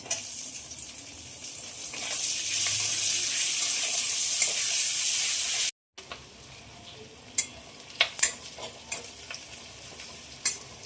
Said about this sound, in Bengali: দেবো কেটে রাখা পেঁয়াজ